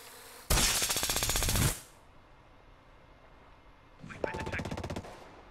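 Automatic gunfire in the Ghost Recon video game during a tournament finals match at the Construction map, two loud sustained bursts of rapid shots with a quiet gap between them.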